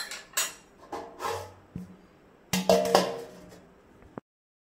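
Metal lids and pot clatter close by while cooking amshotto (dried mango) chutney: several sharp clinks and knocks at uneven intervals, then a final bright clink before silence.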